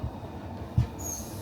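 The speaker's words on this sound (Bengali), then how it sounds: "লুজান থেকে আমরা ট্রেন বোর্ড করলাম।" A Swiss train running on the line from Lausanne: a steady low rumble of the carriage with a single dull knock from the wheels and a brief faint squeal.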